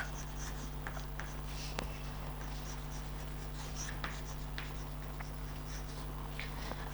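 Chalk scratches and taps across a classroom blackboard as an English sentence is written, in faint irregular strokes over a low steady hum, with no one speaking.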